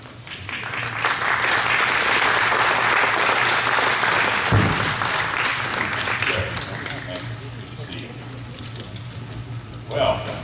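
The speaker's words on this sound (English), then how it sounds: "after that introduction and your kind applause" An audience applauds a speaker being welcomed to the stage at a talk on the Allies' secret weapons of WWII, a loud sustained crowd clapping that fades out, with voices murmuring underneath and a brief bump near the end.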